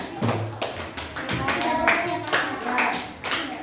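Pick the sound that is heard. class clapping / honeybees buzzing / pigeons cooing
class clapping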